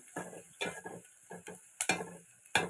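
Chopped onion is sautéed in a pan for a capsicum stir-fry, heard as a series of close, separate scraping strokes of a spatula against the pan, with quiet gaps between them and a faint sizzle.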